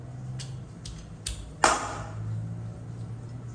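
A knife blade taps on a cutting board while quail meat is being cut for a fry: a few light taps in quick succession, then one sharper, louder strike, close by.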